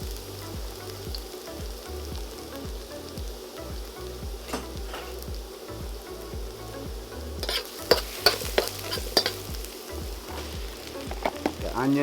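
Fresh garlic sizzles in hot olive oil in a skillet, a dense continuous crackle with rhythmic stirring scrapes and a few sharper spits toward the end.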